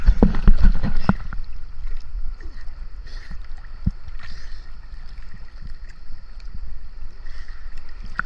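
Waves slosh and splash against a small boat, loudest at the start, then settle into a softer, continuous lapping with a faint breeze.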